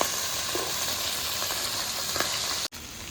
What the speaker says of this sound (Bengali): মাছটা কিন্তু ভাজতে অনেক সময় লাগে একটু কাঁচা করে ভাজতে হয়